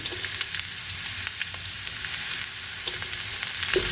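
Red chili tossed into a stir fry of white watermelon rind and carrot in a hot pan, crackling steadily up close with scattered sharp pops and a louder surge of sizzle at the very end.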